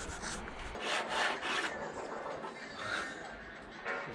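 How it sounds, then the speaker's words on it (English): Hand file worked square across a flattened metal panel, rhythmic raspy strokes roughly every half second, close but fairly soft, with no talking. "Now I've got to file it all square. Good old fashioned bit of file work."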